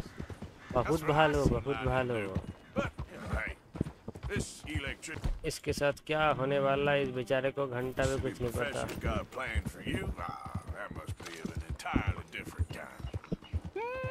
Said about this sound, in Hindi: थक गया मेरा घोड़ा थक गया यार मेरा घोड़ा थक गया